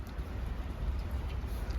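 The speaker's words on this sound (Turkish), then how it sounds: "Çok yağmur yağıyor" Heavy rain falls steadily outdoors at a village house, a dense continuous wash of drops on surfaces with a constant low rumble throughout.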